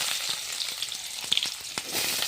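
Onions and green chillies fry in a pan with cumin, mustard seeds, urad dal and chana dal for North Karnataka cucumber-seed upma, giving a steady close sizzle with scattered crackles and light stirring taps, no voices.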